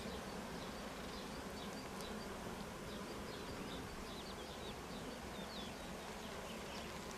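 Dense, constant buzzing of many honeybees close by at a chestnut honey apiary in Kastamonu, a steady swarm hum with no voices.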